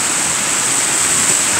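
Ocean surf roars in a continuous loud, broadband wash of breaking waves, steady throughout with no voices over it.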